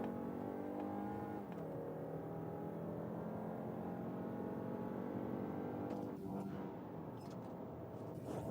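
A 2026 Mazda CX-5 with a naturally aspirated engine and automatic gearbox accelerating from 75 to 120 km/h, a steady engine drone rising in pitch with road and wind noise heard from inside the cabin, fairly quiet and continuous.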